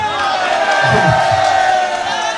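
Large political rally crowd at an address by Imran Khan, many voices chanting and shouting together in a loud, continuous roar with rhythmic bursts of slogan calls, close and dense, no single voice standing out.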